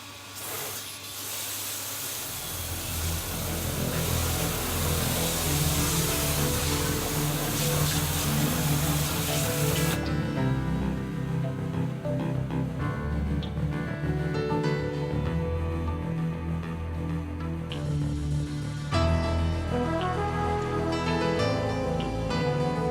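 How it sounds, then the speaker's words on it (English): A steady, loud spray of pressurized water from a parts washer's spray gun hisses continuously while rinsing down the unit, shifting in tone partway through as the stream hits different surfaces. "the spray gun, providing clean water under pressure for rinsing down the unit"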